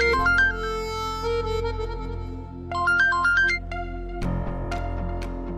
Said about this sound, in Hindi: बार बार फोन आ रहा है, अगर इम्पोर्टेंट है तो उठा लो ना